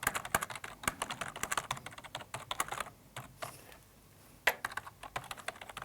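Rapid typing on a computer keyboard while composing the text of an email fax message, with dense close key clicks and a brief pause before the typing resumes.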